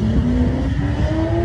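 Drag racing car at a dragstrip, a loud, close engine drone holding a steady rising pitch throughout, with no voices over it.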